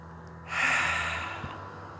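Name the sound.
breathing in and out during Pilates exercise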